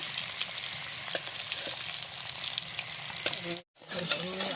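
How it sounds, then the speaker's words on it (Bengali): Potatoes stirred and fried in a pan in preparation for a live rohu fish curry, giving a steady close sizzle with occasional spatula scrapes and a brief drop-out near the end. "আলুটা নেড়ে চেড়ে ভেজে নেব।"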